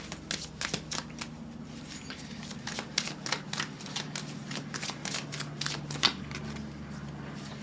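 Oracle cards being shuffled and drawn, a steady run of crisp riffling flicks and taps at close range with a low hum beneath.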